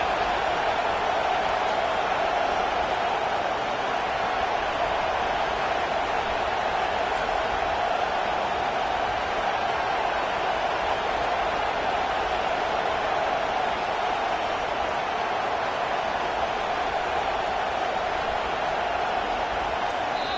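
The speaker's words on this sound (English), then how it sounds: "this crowd trying to help keep them there" Steady roar of a football stadium crowd cheering late in a close game, a broad continuous wash of noise that holds even and loud for the whole stretch without clear individual voices.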